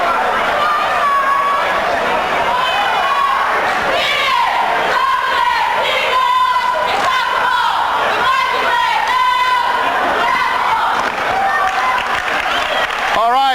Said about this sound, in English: Let's watch this cheer by the Greyhound cheerleaders.